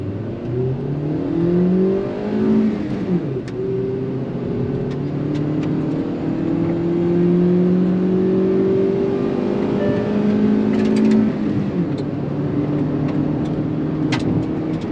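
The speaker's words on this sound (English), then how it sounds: "in first gear, in 3, 2, 1, listen to the engine." A Hyundai Exter engine revs up through first gear, its pitch climbing steadily, dropping briefly, then rising again in a long, continuous acceleration.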